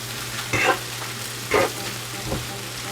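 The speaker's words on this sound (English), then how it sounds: "it doesn't take this spinach long to cook because it's almost done." Spinach cooks in a pan with a soft ongoing sizzle, interrupted by two or three brief scraping stirs of a utensil against the pan, close by and moderately loud, without speech.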